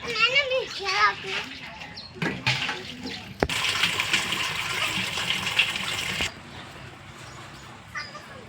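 Tap water pours into a metal water pot, a loud continuous gush that builds for several seconds and then stops abruptly, with children's voices and talk before and around it.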